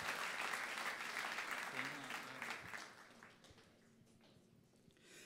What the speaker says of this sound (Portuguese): a ele e a Débora, dá uma salva de palmas bem calorosa e bem bonita, em nome de Jesus